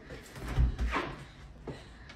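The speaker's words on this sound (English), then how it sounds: "Hold on, it's a door." A door being opened at a home on a rainy day, a close hollow thump and rattle followed by a softer knock, with no talking over it.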